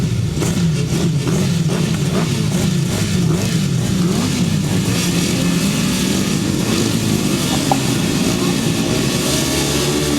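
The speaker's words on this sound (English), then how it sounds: "On the start line, the revs rise, tapes fly, and away they go then" Grasstrack racing motorcycles rev hard on the start line at the 2009 British Best Pairs Grasstrack Championship, several engines climbing and wavering together in a loud, continuous snarl.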